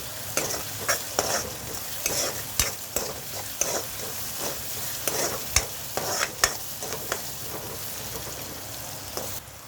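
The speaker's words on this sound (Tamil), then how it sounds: "போட்டுட்டு நல்லா வதக்கி விடுங்க" Vegetables sauté with salt in a hot pan for pasta: a constant close sizzle with frequent stirring scrapes and sharp clinks of a spoon against the pan at an irregular rhythm, with no voices.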